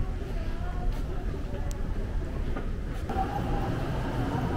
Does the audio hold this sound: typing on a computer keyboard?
no